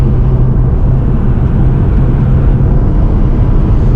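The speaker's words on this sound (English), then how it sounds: "The intake sounds good. I'm not gonna lie. That actually sounds pretty decent." A 7th-generation Honda Civic Si (EP3) engine drones steadily through its intake, a loud, even, low-pitched rumble with no talking.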